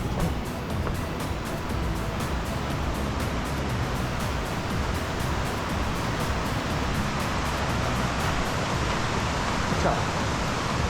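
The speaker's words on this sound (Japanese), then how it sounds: "ここが川になっててちょうどいい。" River water rushes steadily at a summer campsite surrounded by nature in Fujinomiya, Shizuoka, Japan, a broad continuous roar filling the whole stretch with no pauses and no voices.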